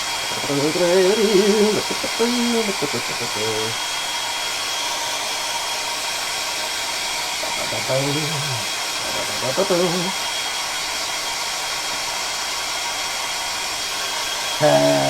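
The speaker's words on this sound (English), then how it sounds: "Dryer across the unit now." A hair dryer blows steadily over a freshly painted Warhammer miniature unit, a constant close whooshing hum running throughout, with a person talking briefly over it in short bursts.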